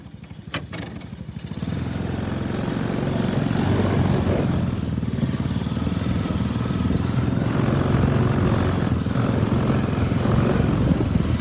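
A riding lawn mower engine runs close and loud, a steady low throbbing drone that settles after a brief rise at the start, with a few clicks early on and no talk.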